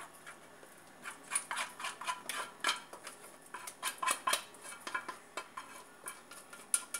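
Hot, thick banana sweet being scraped and poured from a cooking pan into a greased baking form, with repeated irregular metallic scrapes and clinks of a utensil against the pan, close and fairly quiet.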